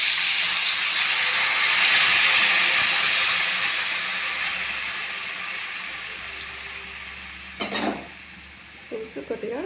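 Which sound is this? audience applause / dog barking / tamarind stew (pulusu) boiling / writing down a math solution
tamarind stew (pulusu) boiling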